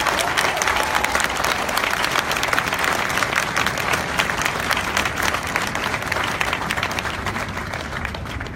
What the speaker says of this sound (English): please join me in a round of applause for the company staff of Company A